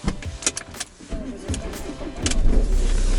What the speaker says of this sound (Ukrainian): Я ти заведу машину.